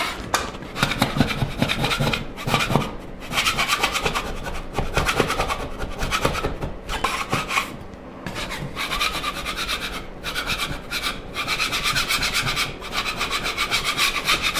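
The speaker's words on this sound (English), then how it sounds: "maybe just a simple scraper tool would work pretty good" A simple scraper tool rubs leftover paint residue off a drywall wall in steady back-and-forth strokes, a rough, gritty scraping close up that continues with brief pauses throughout.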